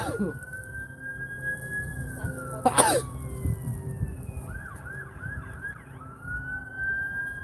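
A wailing ambulance siren sweeps and yelps at moderate distance over steady road traffic noise, with a short loud burst near the middle.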